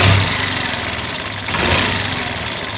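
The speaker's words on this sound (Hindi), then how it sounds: "एक बार इंजन का साउंड सुनाता हूँ, ऐसा लगा घुंघरू टूट गया इसके इंजन के अंदर" Damaged Honda Activa scooter engine idling with a rough, knocking mechanical clatter, loud and close, steady for a few seconds with a slight rise in revs midway.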